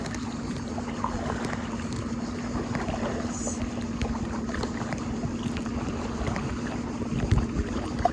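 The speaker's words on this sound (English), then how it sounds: "I'm just paddling next to the shore in case she will fall" Paddle board paddling along a rocky Croatian coastline, with a steady low wash of water and wind and faint, soft paddle splashes throughout, no talk.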